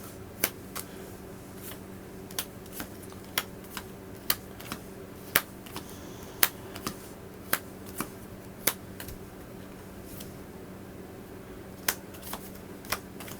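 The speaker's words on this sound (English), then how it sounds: "I'll give it a shuffle here and see how easy are they to shuffle." A large deck of Oceans: Legends of the Deep board game cards being handled and shuffled indoors, with sharp, close card snaps recurring every half second or so over a quiet background.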